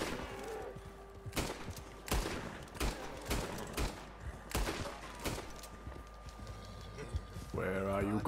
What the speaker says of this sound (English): Shoot this bear in Red Dead.